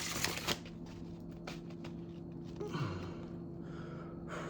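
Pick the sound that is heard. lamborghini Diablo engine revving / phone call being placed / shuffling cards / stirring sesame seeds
shuffling cards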